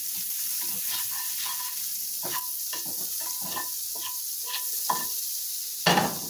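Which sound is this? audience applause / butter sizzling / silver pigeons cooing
butter sizzling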